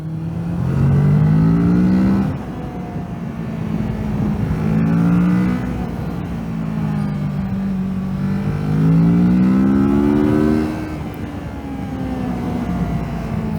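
Kawasaki Z650 motorcycle engine revs repeatedly while riding, climbing in pitch in several surges and easing back between them, loud and close over steady wind and road rumble.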